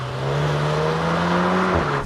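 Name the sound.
Volkswagen Golf 8R car drifting, from inserted video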